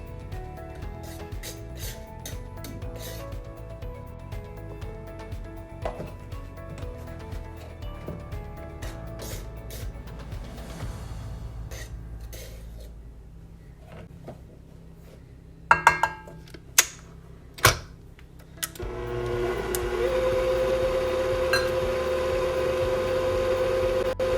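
A stand mixer mixes cinnamon roll dough with a steady mechanical whir and regular soft clunks. It drops briefly quieter, then gives a few sharp knocks before running louder and steadier at the end.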